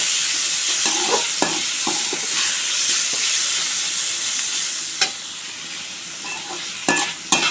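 Freshly picked bitter gourd sautéed in a pan, giving a continuous loud sizzle with scattered spatula scrapes and clicks that grow sharper and more frequent toward the end, with no voices.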